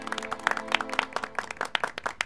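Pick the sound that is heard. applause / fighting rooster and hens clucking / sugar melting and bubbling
applause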